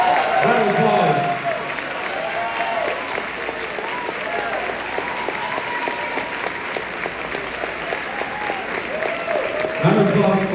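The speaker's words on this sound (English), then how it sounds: "Round of applause." Sustained crowd applause and cheering at a political town hall in Dallas, loud and continuous, with a voice speaking over the clapping near the start and end.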